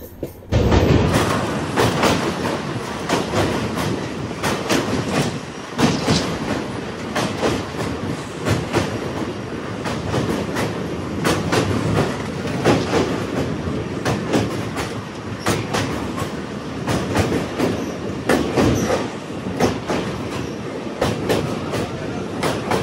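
The Kolkata–Sairang Express rolls along a hill route toward New Haflong, its carriages rumbling loudly with continuous clickety-clack of wheels over rail joints, heard from inside the train.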